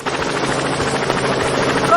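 Helicopter sound effect in an apocalyptic satire podcast, a steady close rotor thump and engine whine running continuously at high volume.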